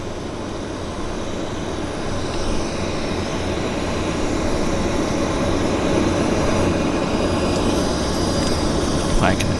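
Steady broadband jet roar of an Airbus A330 arriving at Vancouver Airport on the north side, a sustained distant rumble that holds level throughout with no talk over it.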